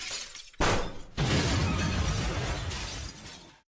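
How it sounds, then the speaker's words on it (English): A Christmas tree topples and its glass baubles shatter while light bulbs pop: a dense, loud burst of breaking glass and tinkling fragments that swells after a brief lull and rattles on for about three seconds before cutting off. "Some baubles shattered and light bulbs popped."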